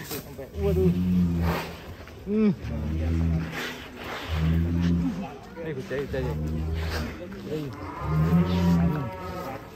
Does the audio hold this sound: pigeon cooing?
no